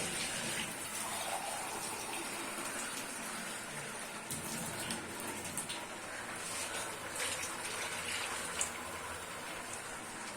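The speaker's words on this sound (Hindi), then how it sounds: "तो इसमें डाल देते हैं पानी इस तरह से।" Water being poured into a cooking pan in a Pakistani village kitchen, a steady continuous gushing splash lasting throughout at moderate loudness, with no talking.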